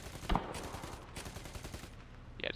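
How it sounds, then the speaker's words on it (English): A DT machine gun on a BT-7 tank fires in War Thunder, with a sharp shot at the start and a fainter burst at the end over steady engine rumble, no talking. "the DT machine gun is not very good at pointing highward"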